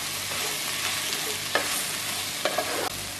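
Onion and grated coconut frying in a pan for shark pickle, stirred with a few soft scrapes and taps over a steady, fairly quiet sizzle.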